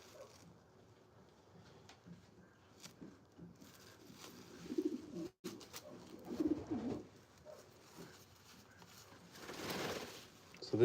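Pigeons coo softly and intermittently in a breeding loft, low and fairly faint, with a person talking quietly nearby.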